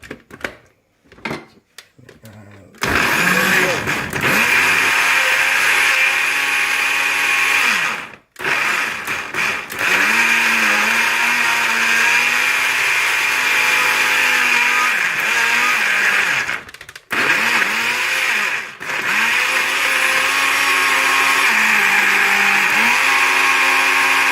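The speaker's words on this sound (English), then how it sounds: "Come over here to our blender." A countertop blender whirs loudly through a fruit smoothie of banana and apple, running in long steady bursts with brief pauses, the motor pitch dipping and rising as the blades work through the fruit.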